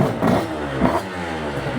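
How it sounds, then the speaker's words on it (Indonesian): An NSR two-stroke motorcycle engine revs nearby, loud and rough, its harsh buzzing note rising and falling in a couple of throttle blips. "Ini kalau kalian dengerin, suara mesinnya kayak kasar banget ya."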